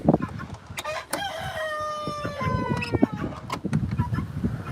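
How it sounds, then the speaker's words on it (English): A rooster from a flock of mixed-breed egg-laying chickens crows one long, loud cock-a-doodle-doo beside a backyard garden coop, with clucking and other hens around it and wind rumbling in the microphone. "That was a rooster."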